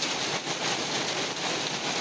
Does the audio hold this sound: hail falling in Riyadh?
yes